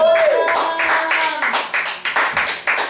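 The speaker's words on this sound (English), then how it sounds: "Round of applause, ladies and gentlemen." A round of applause from a comedy-show audience at a small late-night venue, bursts of clapping swelling and fading in uneven waves, close and fairly loud, with a voice speaking briefly at the start.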